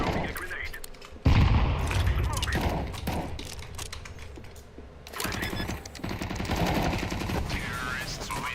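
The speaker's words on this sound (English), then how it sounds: "I'm throwing a grenade." Grenade blast erupting amid rapid gunfire in a Counter-Strike-style shooter match, a loud boom followed by dense bursts of shots that keep rattling throughout, with a voice talking over the action.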